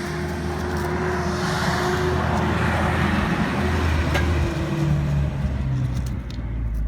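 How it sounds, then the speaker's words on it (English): A car passes along a road beside a garden, a loud steady rushing swell of tyre and engine noise that fills the whole stretch before easing off at the end, with no talking. "Sorry, I let that car pass by."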